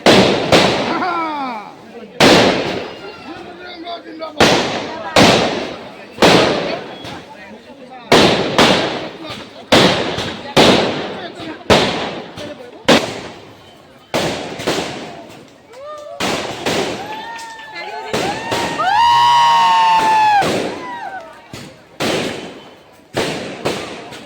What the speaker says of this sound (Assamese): ইয়াৰ পিছতে আছে ফটকা ফুটোৱা হৈছে